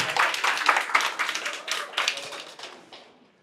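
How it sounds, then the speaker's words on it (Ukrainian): A small group claps in a quick, uneven patter that gradually thins out and fades to silence. "Михальова Олена і Павленка Світлана на ваші оплески."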